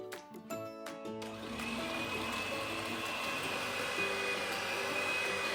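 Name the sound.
electric whisk mixing batter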